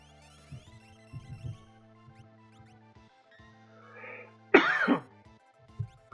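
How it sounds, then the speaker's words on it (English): A person recovering from illness clears the throat and coughs a few times, with one louder harsh cough near the end, over faint background game music. "Sorry for all the coughs."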